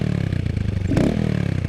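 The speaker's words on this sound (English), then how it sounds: "that's what the Brox exhaust sounds like" A Honda Grom motorcycle fitted with a Brox exhaust idles with a steady, close putter, then gives one brief, light rev that swells and settles back to idle.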